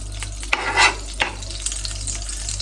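Rice fries in ghee in a pan, a steady sizzle broken by a few scraping stirs and clinks of a utensil against the pan.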